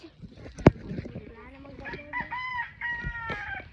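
A rooster crows nearby, its rising, strained call standing out over faint background noise and a sharp knock near the start.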